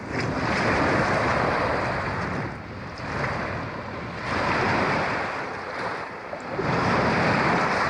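Lake waves roll in and wash against rocks along a beach at Wilderness State Park near Mackinaw City, rising and falling in slow surges amid rough water and steady wind noise on the microphone.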